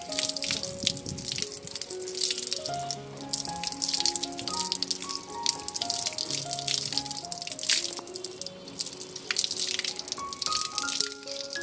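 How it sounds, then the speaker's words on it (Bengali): Flower garlands rinsed under a running tap for a Janmashtami home puja, with steady splashing and dripping water heard throughout beneath a melodic music track. "যাই এবার ধুয়ে নিই মালাগুলো"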